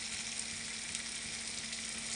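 Koi fish frying in hot oil, a steady close sizzle with crackling spatter that holds evenly throughout, no voices.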